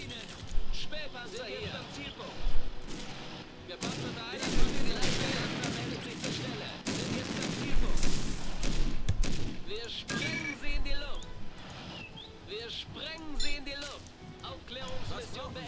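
Infantry rifle volleys crack in quick succession across a Blitzkrieg 2 battle, with bursts of gunfire and a few heavier booms, while a player talks over the shooting throughout.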